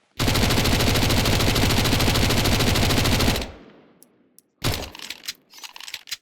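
A Mac-10 submachine gun in Counter-Strike 2 fires one long, rapid, very loud burst for about three seconds, then a ringing decay, followed by a brief scatter of mechanical clicks and clatter.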